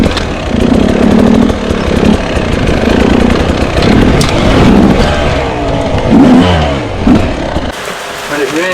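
Enduro motorcycle engine revs and bogs in uneven bursts while being ridden in wet conditions, loud and close, with the rider's voice talking over it.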